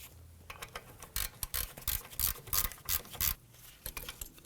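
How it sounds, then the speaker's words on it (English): Ratchet snugging down bolts on the rear brakes of a 2003-2014 Volvo XC90, a rapid run of close, crisp clicking strokes in quick bursts with brief pauses. "Let's go ahead and pop a ratchet on there and we'll snug these down."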